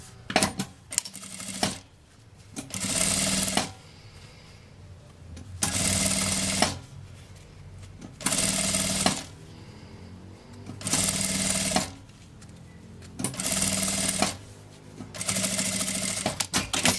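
Sewing machine stitching a seam through printed fabric and lining for a child's mini backpack, running in about six steady bursts of fast mechanical chatter separated by short pauses, close and alone.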